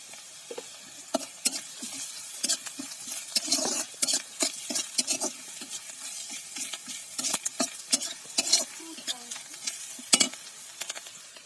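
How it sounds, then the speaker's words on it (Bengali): Pointed gourd slices seasoned with salt and turmeric fry in a pan, with a steady sizzle and repeated scraping, clattering strokes of a spatula at an irregular rhythm, close and fairly loud, with no talking. "এভাবে 5 মিনিট ভেজে নেব।"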